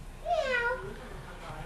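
A voice imitates a cat's meow at a Halloween family gathering, giving one rising-then-falling mew that stands out clearly against quiet room noise.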